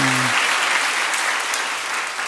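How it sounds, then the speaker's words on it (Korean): A church congregation applauds in a sustained, dense wash of clapping that fades slightly toward the end, with a brief voice at the very start. "사모님께도 박수 한번 주세요."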